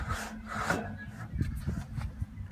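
Concrete fence panel slid down into a steel post, a near, low scraping and grinding rub with a few soft knocks as it settles into place.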